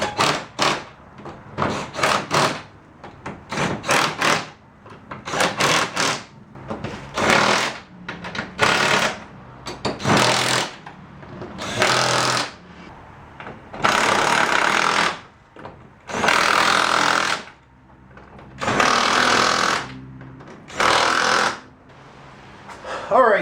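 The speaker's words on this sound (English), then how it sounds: "All I'm doing now is getting all these bolts tightened up, reinstalled." Bolts being tightened on an old wooden garage door with a power driver, loud close bursts of whirring and rattling that start short and choppy and then settle into longer, evenly spaced runs.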